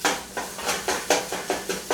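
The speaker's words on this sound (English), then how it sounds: "I don't know if you can hear that sizzling. The ham's going to brown." Ham pieces sizzle and brown in a soup pot, each new stir bringing a fresh burst of crackling hiss in a fairly regular rhythm, close and moderately loud with no voices.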